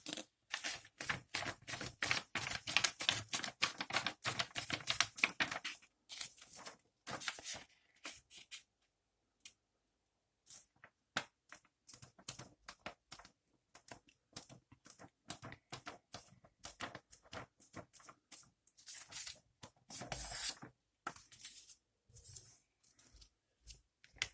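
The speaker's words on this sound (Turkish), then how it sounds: "Bir tane A4 kağıdını alıp eşit bir şekilde katlıyoruz." A sheet of A4 paper is folded evenly and creased, giving long runs of crisp crackles and clicks, close and fairly quiet, with a brief pause midway.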